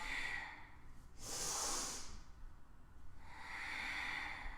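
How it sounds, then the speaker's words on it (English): Slow, deliberate breaths during a Kundalini yoga flow, an inhale then a long airy exhale and another inhale, close and hissing, three breath phases with no talk. "So we inhale and then exhale."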